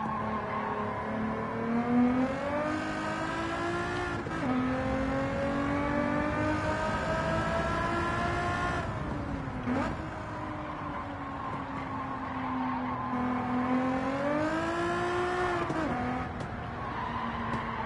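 A car engine in a racing game revs hard under throttle, its whining tone climbing and dropping repeatedly as gears change, steady and close with no talk over it.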